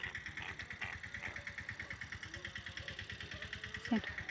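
A tractor engine thumps in a steady, rapid rhythm close by on a farm, a constant low chugging with faint voices and background noise over it.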